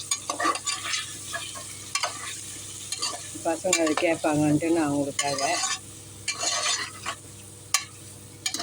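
Pepper chicken fries in a pan as a utensil stirs it, scraping and sizzling steadily throughout while someone talks over the cooking.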